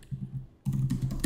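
Someone types code on a computer keyboard, a brisk run of close key clicks, briefly pausing before a denser burst of taps resumes.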